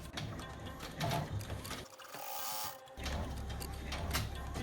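An embroidery machine runs a tack-down stitch holding a strap on a fabric garden flag, a close, quiet rattling and whirring with quick mechanical clicks that pauses briefly partway through, then resumes.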